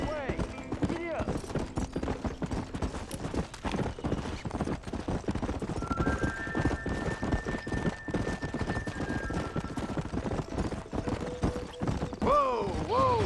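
Horse hooves clip-clopping at a steady gallop in the Red Dead Redemption video game, a continuous rhythmic beat running throughout with brief whinnies near the end and occasional voices over it.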